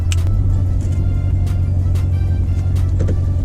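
A 2019 Chevrolet Corvette idles while parked, its engine giving a steady, deep rumble heard close up, with faint clicks and ticks over the unbroken drone.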